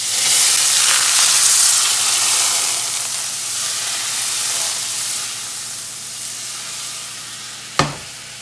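Eggs frying Waffle House style in a very hot pan with oil, a loud steady sizzle and hiss close up that eases slightly, ending with a sharp clack of a utensil.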